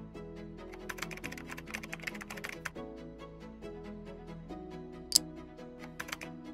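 Card details being typed on a computer keyboard, a steady run of light clicking keystrokes close by with brief pauses, over a faint tonal background hum.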